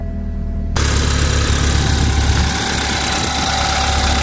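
A twin turbo car engine catches and settles into a loud, steady idle with a low rumbling vibration, heard close up at a salvage auction yard.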